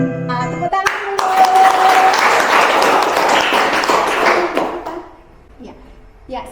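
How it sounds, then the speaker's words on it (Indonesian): Students in a classroom clap together in a burst of applause that lasts several seconds after a short voice and musical tones, then dies away into quiet. "Nah, tepuk tangan dulu."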